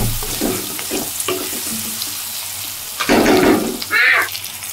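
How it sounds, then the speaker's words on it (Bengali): Tomatoes with green and red chillies hit hot oil over frying onions, a crackling sizzle that surges loudly around the middle with bursts of stirring, no voices present. "তেলের উপর এবার টমেটো দিয়ে দিয়েছি আর কাঁচা পাকা লঙ্কা দিয়ে দিয়েছি"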